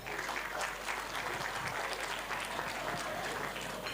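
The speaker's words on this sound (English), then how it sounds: "A round of applause." Guests at the Woodford School Lusaka Grade 7 farewell luncheon give a round of applause: sustained, evenly textured clapping that sounds somewhat distant and soft and carries on without a break.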